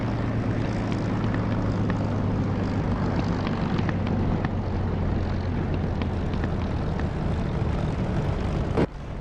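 A P-51 aircraft engine idles on the ground in the DCS flight simulator, a loud, steady propeller drone with a low throbbing hum that holds evenly before a sharp click near the end.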